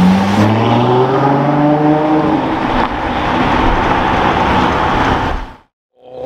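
A Ferrari 812 GTS engine revs hard and close, its pitch climbing sharply before settling into a loud, sustained roar, then cutting off abruptly near the end.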